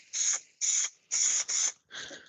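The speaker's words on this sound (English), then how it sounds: "So I'm spraying the carpet now with the same sort of layer that I have on the ceiling." Short bursts from a spray gun coating the carpet inside a camper van, five hissing blasts in quick succession, close and fairly loud with no voices.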